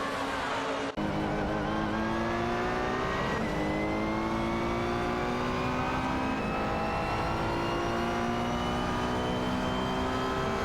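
Aston Martin Vantage GT4 race cars in a racing video game, engines droning loudly and continuously as they rev through the gears, with rising pitch sweeps and a brief cut near the start.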